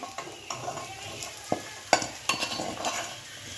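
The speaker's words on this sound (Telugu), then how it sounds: "ప్రాన్స్ అవి దీంట్లో వేసేసి ఫ్రై చేసుకోవటమే" Boiled prawns fry in a pan, a soft continuous sizzle with a few sharp utensil scrapes and clinks bunched toward the end, close and with no voices.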